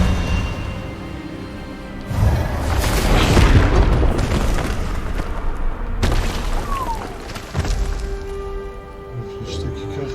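Expelliarmus spell blast in Hogwarts Legacy: a booming, rushing magical burst that swells and rumbles, followed by a second surge, fairly loud, with voices heard around it.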